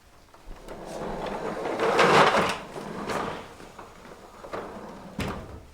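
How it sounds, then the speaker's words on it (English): Knocking and rattling caused by a draft indoors: a broad, rumbling rattle that builds to a peak, then eases into scattered knocks and taps. "It's that knocking again."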